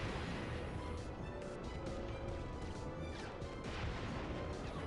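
Torpedo weapon firing in Ratchet & Clank: Going Commando, a dense, loud continuous roar of blasts and crashing impacts with repeated bursts layered over constant game noise.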